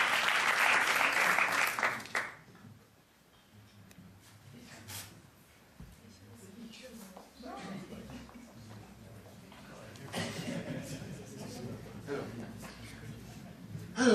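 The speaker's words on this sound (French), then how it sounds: "Vous pouvez applaudir." Audience applause at a French film premiere (avant-première) bursts out loudly for about two seconds, then quickly thins into scattered claps and murmuring chatter, with a second swell of clapping and crowd noise later on.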